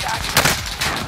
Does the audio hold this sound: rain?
no